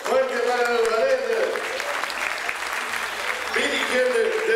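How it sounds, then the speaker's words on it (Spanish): A crowd at a regional festival applauds a ballet troupe, broad clapping running through the middle while tonal voice or music sounds rise at the start and return at the close. "El aplauso fuerte, fuerte para el ballet"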